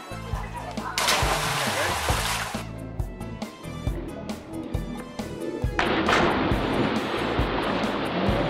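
Someone jumps off into a lake swim hole on Lake Nottely: two loud, brief splashes of water, separated by a quieter stretch, with people talking nearby.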